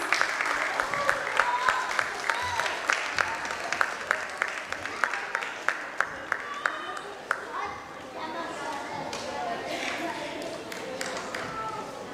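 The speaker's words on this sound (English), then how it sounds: "Let's keep the applause going, please" Sustained applause from an audience at a Kumon Hiranandani ASHR awards ceremony, steady dense clapping with sharper individual claps standing out, continuing as names are read over it.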